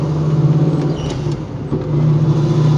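A small block Chevy V8 in a 1967 Camaro RS/SS convertible drives along at a steady, loud engine drone, easing briefly mid-clip before resuming, with no talk over it.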